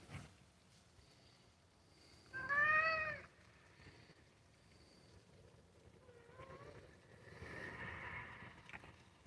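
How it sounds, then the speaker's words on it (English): A neighbor's cat gives one clear, fairly close meow, followed by a few quieter, softer vocal sounds in an otherwise quiet indoor setting. "Neighbor's cat."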